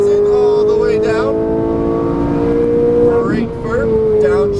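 A Ferrari 458 Italia engine on a race track pulls hard after an upshift, a loud, close, rising tone with a brief dip at the gear change, while someone talks over it.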